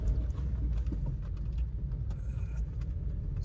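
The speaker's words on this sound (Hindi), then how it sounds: "तो भाई अभी ये गाड़ी सीएनजी पे मैं ड्राइव कर रहा हूँ" A Volkswagen Polo running on CNG hums low and steady from inside the cabin while driving, with faint rattles and road rumble underneath.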